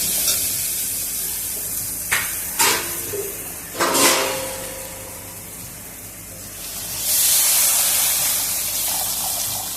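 Water poured into a pan of fried spices and green chilli, giving a few sharp splashy bursts and then a steady, loud hiss of sizzling, close up with no talk.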